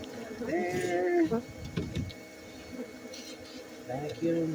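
A vacuum hums with shifting tones as it sucks bees off a boat, the motor pitch rising and dropping in bursts while someone speaks close by.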